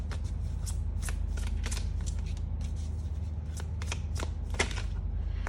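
Tarot cards are shuffled by hand in a quick, close series of soft riffling and slapping bursts, continuous over a few seconds against a faint low hum, with no talking.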